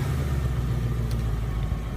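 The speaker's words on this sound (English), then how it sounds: "press the remote engine start twice to start the engine" Ford Mustang GT Premium 50th Anniversary (2015/2016) V8 idling after a remote start, a steady, fairly quiet low engine rumble running evenly with no voices.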